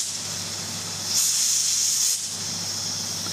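A kitchen appliance vents steam pressure with a loud, close hiss that swells for about a second and then drops back to a softer background hiss.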